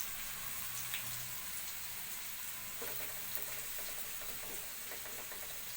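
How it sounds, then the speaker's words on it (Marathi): Cumin seeds sizzle in hot oil with garlic and green chillies, a steady dense crackle and hiss of frying that carries on evenly throughout with no voices. "लसूण हिरव्या मिरच्या थोड्या पलटून झाल्या की मग आपण त्याच्यामध्ये घालून घेणार आहोत हे जिरं"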